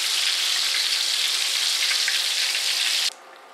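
Apple fritters fry in very hot oil with a steady, close, bright sizzle that cuts off sharply near the end, leaving quiet room tone.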